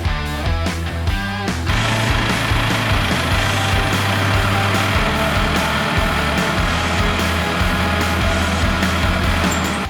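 Tractor engine idling close by as a steady, loud mechanical drone, with a few sharp clattering hits at the very start before the running settles into an even hum.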